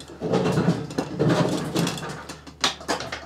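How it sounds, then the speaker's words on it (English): Gear shifter on an MTD Yardworks 10.5 hp 29-inch snow blower being moved through its positions, a run of close mechanical clicks and ratcheting clunks, then a few sharper knocks. "the gear shifter is smooth. You move it with one finger now."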